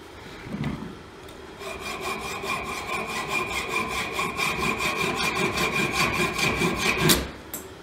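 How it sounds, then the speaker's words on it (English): A hacksaw cuts through the metal piston of a car thermostat in steady, rhythmic back-and-forth strokes, loud and close, with a brief pause near the start and a final scraping stroke before stopping. "take the hacksaw to it"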